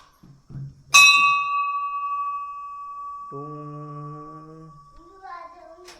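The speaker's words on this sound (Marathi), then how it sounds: "घंटी वाजव" One loud strike of a temple bell rings out clearly and hangs in a long, slowly fading tone. A brief steady hum and faint voices follow.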